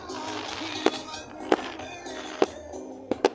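Fireworks going off at the Autódromo Gálvez racetrack, four sharp bangs spaced irregularly over a steady crowd-like background murmur, moderately distant.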